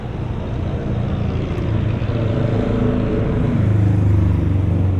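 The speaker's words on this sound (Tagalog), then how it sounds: "Hindi ba maingay motor ko," A motorcycle engine runs steadily up close, a continuous low rumble that grows a little louder toward the end, with no talking over it.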